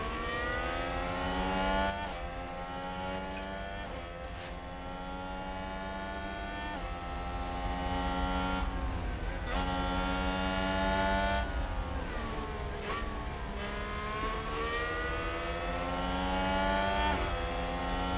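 Formula 1 race cars in the video game F1 Manager 2022 roar past one after another, high engine whines rising and falling in pitch with steady revving throughout and no voices.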